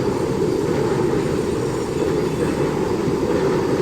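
A Mumbai local train rolls slowly along monsoon-waterlogged tracks, giving a continuous loud rumble of wheels and carriages with faint rail clatter and no pauses.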